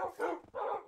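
A dog lets out two quick, close barks, the second following after a short pause, each sharp and fairly full-bodied.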